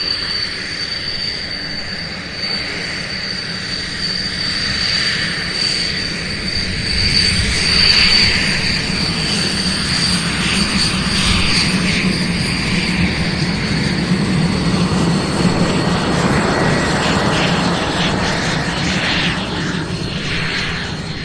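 An airliner landing in gusty winds at Louisville International Airport, a steady broadband roar of engines and wind holding loud throughout, swelling slightly midway, with no talking.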